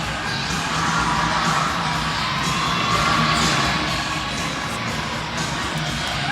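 A crowd at a college women's gymnastics meet between Iowa and Minnesota cheers and shouts continuously, a loud, dense roar with whoops and higher voices rising throughout.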